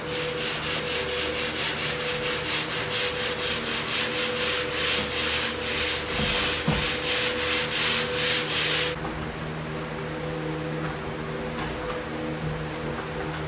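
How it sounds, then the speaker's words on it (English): Steady rasping of sandpaper worked along drywall corners around a room, a continuous scratchy friction that runs unbroken for about nine seconds, then drops away to a quieter hiss of background noise; no voices. "Now we're going to go along and we're going to sand out these corners all the way around the room."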